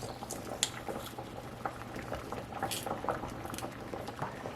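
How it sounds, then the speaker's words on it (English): Potatoes boiling in a pot of salted water for garlic mashed potatoes, a steady close bubbling and popping roll of liquid heard alone with small clicks throughout. "my potatoes are bubbling away, so they should be about fork tender now"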